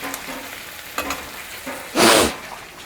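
Raw peanuts and flattened rice (poha) hit a hot pan for Maharashtrian-style poha, giving a short, loud burst of frying sizzle and stirring after faint scraping clatter.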